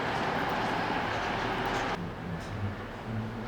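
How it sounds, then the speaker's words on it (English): Steady rumbling of a passenger train running on the way to the airport, a continuous rushing roll with a sudden drop in brightness partway through, heard from inside the carriage. "We're on another train."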